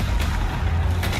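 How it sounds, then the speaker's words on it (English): Muffled booming gunfire from a Battlefield 6 multiplayer trailer thuds in a couple of bursts over a dense rumbling background, loud and heavy, with no speech. "Returning gunfire in the streets of Cairo."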